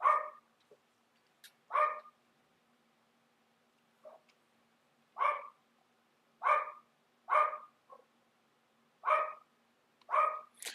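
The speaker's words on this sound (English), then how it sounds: "Let me go get this dog, man. Get him to lay down, chill out." A dog barks in short sharp pairs and single yips, repeating about every second or two, fairly close in an otherwise quiet room with a faint steady hum underneath.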